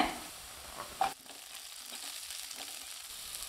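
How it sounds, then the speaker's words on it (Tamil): Onions and garlic fry together in oil in a pan, a continuous gentle sizzle with a couple of brief stirring knocks early on, close and fairly quiet. "இது கூடவே வெங்காயத்தை சேர்த்திக்கலாங்க"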